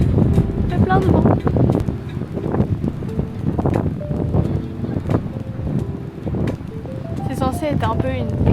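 Strong wind buffets the microphone at Playa del Puertillo, a black-sand beach on Gran Canaria, roaring in gusts while someone talks over it.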